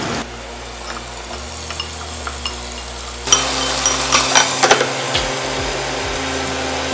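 Chili and shallots frying in a pan for sambal bawang, a quiet background hiss before a loud burst of sizzling and popping that continues close by, with no talk.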